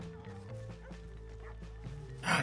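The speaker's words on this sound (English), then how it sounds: "Dog! I heard a dog." A dog in Red Dead Redemption 2 gives a quick series of short, mid-distance barks over game ambience, ending in a brief rush of noise.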